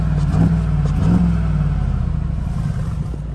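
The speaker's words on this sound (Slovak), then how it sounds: "Teraz zvuk výfuku." A 2020 Mercedes G63 AMG exhaust revs loudly and close, with two sharp blips early on before settling into a steady, deep burbling idle rumble, with no voices.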